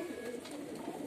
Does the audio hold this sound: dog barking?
no